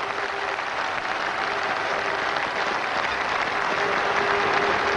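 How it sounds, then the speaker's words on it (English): Continuous loud applause from a cricket crowd and the fielding team at a Zimbabwe versus West Indies one-day international in 2000, a steady wash of clapping throughout. "the whole of the West Indian team stand to applaud him."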